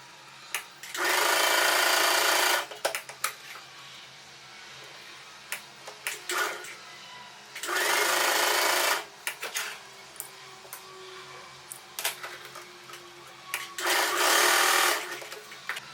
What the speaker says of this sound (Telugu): ఇలా డబల్ స్టిచ్ వచ్చేలాగా స్టిచ్ చేసేసుకోండి